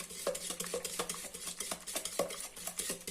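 A spoon scrapes and clinks in quick, steady rhythm around a bowl, stirring grated chocolate into the mixture for a sausage cake. The stirring is close and continuous, with no talk.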